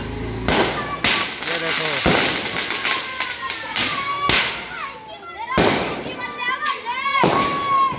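Firecrackers burst repeatedly during a street Diwali celebration, with loud sharp cracks and pops in irregular quick succession, some whistling crackles between them, and children's voices in the background.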